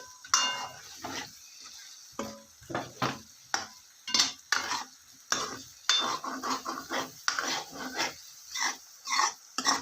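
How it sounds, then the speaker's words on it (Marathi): Drumstick curry with masala stirred in a pan, a spoon scraping and knocking against the metal in quick, irregular bursts, close and fairly loud, with a faint sizzle beneath and no talking. "आता पुन्हा आपल्याला मिक्स करून घ्यायची आहे खाली डागून द्यायची नाही आपली भाजी"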